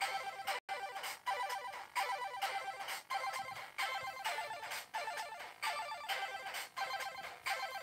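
A bright, quick electronic arpeggio from a PO-20 Arcade pocket synthesizer cycles steadily in repeating patterns, with rhythmic pulses and a brief dropout near the start.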